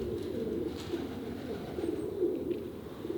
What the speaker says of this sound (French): vous entendez les pigeons,